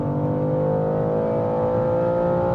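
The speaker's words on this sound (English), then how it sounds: "let's try to measure another 100-200 here with the new M2 competition." A 2023 BMW M2 Competition (G87) accelerates hard on the autobahn from the driver's seat, its engine a steady, loud droning roar that holds through the whole stretch.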